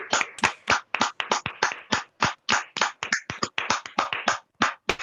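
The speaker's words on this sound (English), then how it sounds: "Guys, can we please give Mr. Nick a round of applause?" Sharp, separate claps in a quick, fairly even rhythm, close and loud with short gaps between them, given as a round of applause for a guest at a kids' forum.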